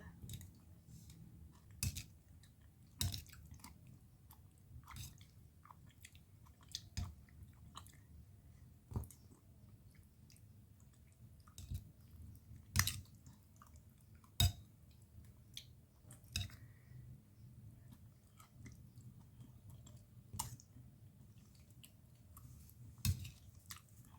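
Quiet, close chewing of a dried pork sheet snack, with soft crunchy bites repeating irregularly every second or two against a low, hushed background.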